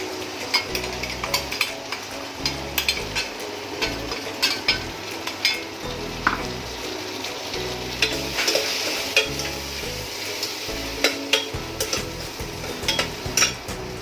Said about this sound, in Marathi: जो मसाला आपण मिक्सरमधून करून घेतलेला आहे तो आता आपल्याला घालायचा आहे